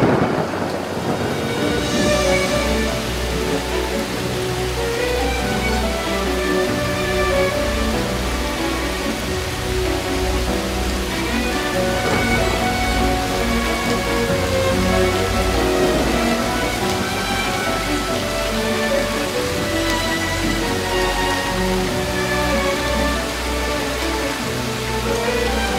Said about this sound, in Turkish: Yalnız fena yağmur geliyor oğlum.